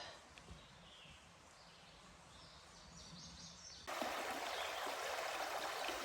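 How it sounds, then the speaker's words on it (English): River flowing in a steady, soft rush that suddenly grows louder and fuller partway through, with no talk. "So that was the river."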